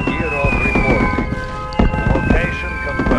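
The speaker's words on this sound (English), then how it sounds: "Warning, nuclear missile launched." Nuclear missile launch in the video game Red Alert 2, a loud rumbling roar with a rising tonal whine and booming bursts, mixed with a spoken game announcement and other battle noise.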